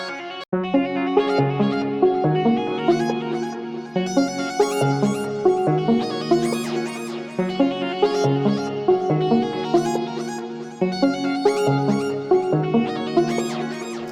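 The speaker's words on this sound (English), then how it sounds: "the craziest part of this melody is this ARP that I added from Poison" A fast synth arpeggio from the ARP preset of the Poison plugin runs in a rapid, bright repeating pattern over shifting chords for fourteen seconds, steady and upfront with no voice.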